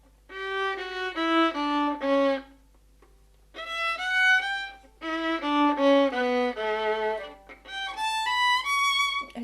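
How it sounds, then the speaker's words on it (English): Violin played up close in short bowed phrases that skip across strings, separated by brief pauses, with faint scratchy contact noise from the bow resting on the strings between notes. "if you just put the bow across silently, there's a bit of a risk of sort of sounds like this coming in."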